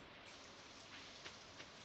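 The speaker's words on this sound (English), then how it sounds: "on a beautiful rainy day." Steady rain falls in the Stardew Valley farming game, a soft continuous hiss of drops with a few faint ticks standing out, heard alone without talk.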